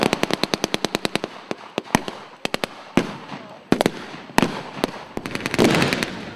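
Gunfire at a World War II battle reenactment of the Sangro River fight in Italy, with rapid strings of sharp cracks at the start giving way to irregular single and clustered shots, loud and close, without talk.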